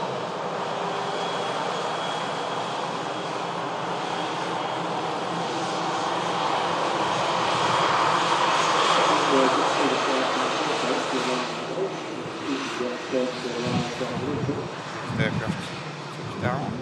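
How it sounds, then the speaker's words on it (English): An easyJet Boeing 737 arriving from Lisbon at Manchester Airport makes a steady jet roar that swells midway, with someone talking over it. "EasyJet arriving in from Lisbon. Orbit forward in the Boeing 737."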